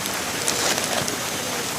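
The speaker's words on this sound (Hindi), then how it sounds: "बारिश हो रही है चारों तरफ, जो है रोड पे भी पानी आ रहा है।" Rain falls steadily on the Kedarnath pilgrimage route in the mountains, a dense, even hiss of drops striking the ground, loud and close with no pauses.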